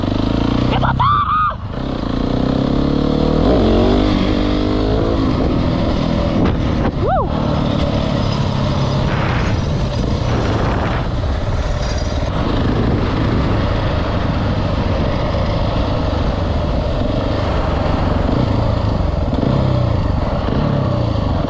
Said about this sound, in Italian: Vai, si parte. Si parte, eh? Che motore!